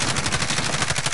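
Rapid automatic gunfire in Call of Duty Warzone, a dense burst of fast, evenly spaced shots at close range, loud and continuous with no speech.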